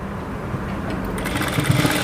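Sewing machine stitching a side seam on a garment, a steady mechanical whir that builds into a faster, louder rattling run, close up and alone.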